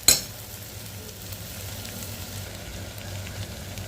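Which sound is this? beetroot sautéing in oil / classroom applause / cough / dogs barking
beetroot sautéing in oil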